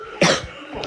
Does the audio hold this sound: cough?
yes